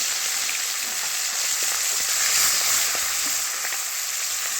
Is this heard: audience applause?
no